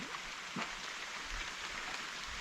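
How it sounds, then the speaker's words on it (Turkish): Steady rain falling outdoors, a dense even hiss with scattered drip accents, moderately quiet and continuous. "Şu an yağmur yağıyor"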